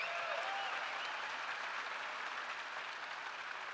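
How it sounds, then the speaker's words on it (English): Sustained crowd applause for fighter Josh Barnett at a Fight Night Q&A in Zagreb, Croatia, a dense, even wash of many hands clapping throughout with no voices over it. "Applause for Josh Barnett"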